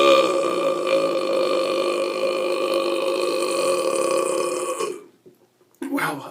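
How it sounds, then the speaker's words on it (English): A person lets out one long, loud, sustained burp that rumbles on for about five seconds. A short, brief noise follows after a moment of silence. "I'm not trying to do the burping just yet"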